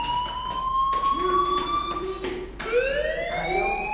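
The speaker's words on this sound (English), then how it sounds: "do you hear that fire alarm?" A fire alarm sounds in a school setting in the video game Life is Strange. The tone is loud and sustained with sliding pitches, breaking off briefly before starting again.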